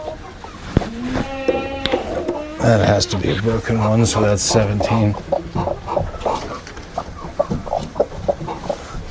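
A hen clucks and squawks in bursts during a farm egg collection, close and loud, mixed with a person talking throughout.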